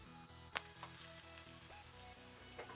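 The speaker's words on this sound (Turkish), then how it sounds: "Yağımızı biraz kızdıracağız. Ondan sonra köftelerimizi atacağız." Bread meatballs fry in about two and a half spoons of hot oil, giving a steady close sizzle with a few sharp pops and crackles and no talk.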